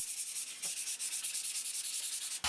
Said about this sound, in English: I lightly sanded the desk with sandpaper.